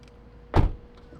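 A single solid thud of a Toyota GR86 car door shutting, fitted with TRD door stabilizers, close and alone against a quiet background.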